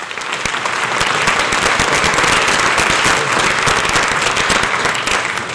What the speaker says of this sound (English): So would you do me the honor of applauding for yourselves